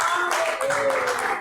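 A church congregation at a worship service claps and cheers together, a dense wash of applause mixed with voices, steady and fairly loud throughout the brief moment.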